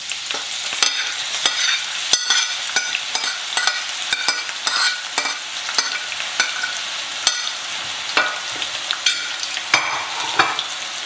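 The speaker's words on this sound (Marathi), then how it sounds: "आता आमी न्हू सेम तेलान हे ऑनियन्स घालया, स्लाइस करून दवरले ते, आनी चिलीजूय घालया." Sliced onions and chilies fry in oil for a Goan beef chilli fry. A close, steady sizzle is punctuated by rapid, frequent spatula scrapes and clinks against the pan, with no voices.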